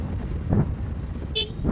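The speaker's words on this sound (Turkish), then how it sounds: "Kornaya da bastık bahaneyle. Kornayı duymuş olduk." A short, high toot from a Suzuki Burgman Street 125EX scooter horn sounds once over a steady engine rumble.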